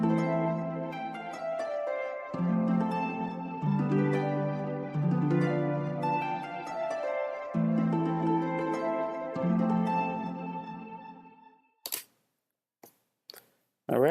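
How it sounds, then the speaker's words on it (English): Legendary harp from Guild Wars 2 playing a melodic run of plucked, ringing notes with rich harmonics, then stopping abruptly and leaving a few brief clicks near the end. "This one is the legendary harp."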